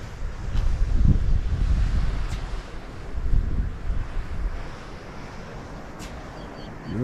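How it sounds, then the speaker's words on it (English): Strong wind buffets the microphone in heavy, rumbling gusts that swell and ease beside a VW T4 camper, with surf faintly washing in the distance. "bloody hell, it's windy"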